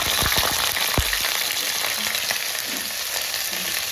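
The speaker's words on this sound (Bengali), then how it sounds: "এই কেটে রাখা আলুটা আমি আর সেদ্ধ করিনি, লাল লাল করে ভেজে নেবো বলে।" Cut raw potatoes frying in hot oil with cinnamon, cardamom and clove, a steady close sizzle with a few sharp clatters near the start; no talk.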